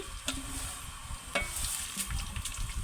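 Garlic and dried red chillies sizzle in hot oil for a village-style tempering, a steady close crackle broken by a few sharp spoon clinks against the pan.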